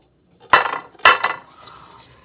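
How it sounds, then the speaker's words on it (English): A baking dish for Rice Krispie treats is set down on a counter twice in quick succession, two sharp clattering knocks of dish and utensils followed by lighter clinks and handling noise. "Now get a good size baking dish"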